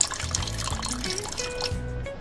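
Water pours and trickles into a pot of soaked dal and peanuts, a close, continuous liquid splash over a low background hum.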